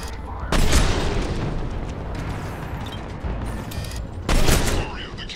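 Cannons fire in the Mass Effect 3 game, two heavy booming blasts a few seconds apart, each with a sharp crack and long rumbling tail over a dense battle din.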